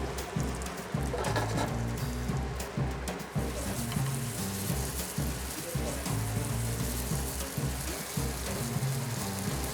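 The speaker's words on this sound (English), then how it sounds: "we're going to take our rainbow trout and we're going to put it flesh side down first, right into the pan" A rainbow trout fries flesh side down in a hot pan, a steady crackling sizzle that holds at an even level throughout, close and unbroken, with faint talk in the background.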